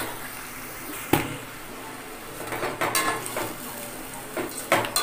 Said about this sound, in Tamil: இப்போ நம்ம வந்து வெங்காயம் இதில் போட்டுக்க போகிறோம்.